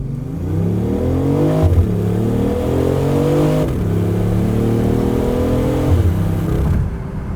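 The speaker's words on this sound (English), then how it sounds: "I love how the exhaust just kind of blips and pops a little bit every time you shift" A BMW i8 accelerating hard through the gears, its engine note climbing and dropping with each shift and brief exhaust blips between, loud and continuous with no voices.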